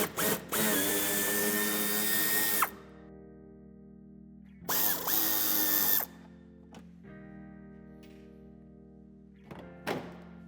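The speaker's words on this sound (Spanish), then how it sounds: "será necesario que quitemos 2 tornillos en el paso de ruedas y un tercero en la esquina" A power drill or driver backs out screws from the wheel well and corner of a BMW 4 Series Coupé F32 bumper, running loud and close in two long whirring bursts with a few short spins and clunks between them.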